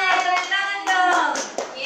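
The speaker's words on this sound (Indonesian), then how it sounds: "Tepuk tangan dong." Children clap their hands during an online Christian worship session for kids, with bursts of applause mixed with excited young voices and cheering close by.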